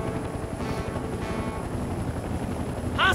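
A hostile helicopter in the video game Mercenaries 2: World in Flames gives a steady thudding rotor drone at moderate level, with a brief chirpy game sound at the very end.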